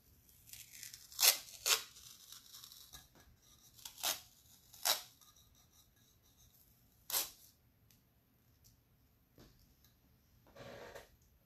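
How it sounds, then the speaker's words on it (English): Tape peeled off a glittered fabric tumbler in quick, sharp tearing bursts, several close rips spaced a second or two apart with quiet gaps between. "And then peel your tape"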